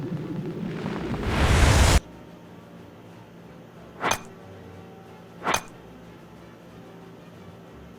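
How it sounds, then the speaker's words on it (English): A fire attack in the Call of Saregnar game sets an enemy ablaze: a loud, rising roaring burst lasting about a second, then two short sharp flare-ups a moment apart over quiet background. "Let's just set this guy on fire."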